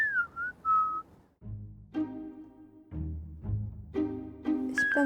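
A clear human whistle carries a wavering melody, sliding between pitches with short pauses and held notes over a low steady background hum.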